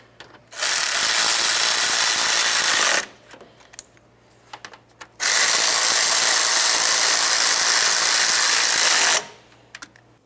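A power tool drives bolts into a radiator cooling fan assembly on a 2007-2012 Nissan Sentra, with two loud sustained bursts of whirring, the first about two and a half seconds and the second about four, separated by quiet pauses.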